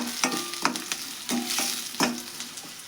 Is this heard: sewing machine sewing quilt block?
no